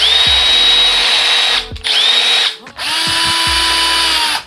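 A Milwaukee M12 cordless drill runs in three loud, close bursts with a high whining motor, each spinning up and winding down with brief pauses between.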